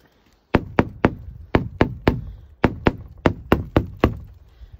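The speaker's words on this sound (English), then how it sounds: "what you want your hide to sound like when you're frost scraping" A hide being frost scraped gives a dozen or so sharp, hard knocking strokes in quick, fairly even bursts, close and loud, with no voices.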